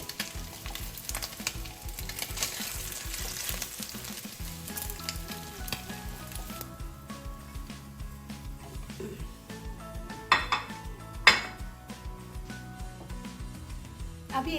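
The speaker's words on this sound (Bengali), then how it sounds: "আমার মাছটাও ভাজা হয়ে গেছে। এখন আমি মাছগুলো তুলে রাখবো।" Fish frying in a pan gives a steady sizzle and stirring. Two sharp clinks near the end come as the fried pieces are lifted out.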